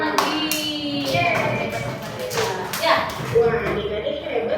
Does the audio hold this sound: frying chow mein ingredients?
no